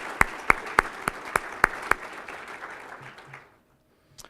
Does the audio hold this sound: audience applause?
yes